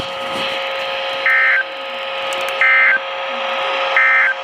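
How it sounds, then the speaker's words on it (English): NOAA Weather Radio warning alarm tone during a weekly test, heard as three steady loud beeps about a second and a half apart over a constant hum of broadcast noise. "the National Weather Service has just activated the public warning alarm tone"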